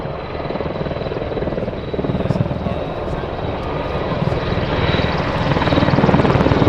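A search and rescue helicopter drones loudly and continuously nearby at an air show flying display, its rotor chop throbbing steadily and growing slightly louder toward the end.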